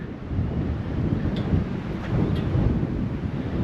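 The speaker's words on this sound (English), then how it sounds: "It's getting really windy though." Strong wind roars steadily on a tree-lined mountain road up in the mountains of Abra, a broad rumbling gust with buffeting against the microphone, loud and continuous with no talking.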